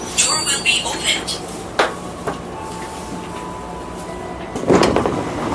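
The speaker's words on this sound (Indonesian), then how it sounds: "Hati-hati, pintu dibuka. Attention, door will be opened." KRL commuter train sliding doors open at a station platform on the Jabodetabek Commuter Line, with a mechanical slide and thump under a recorded announcement voice and steady carriage hum.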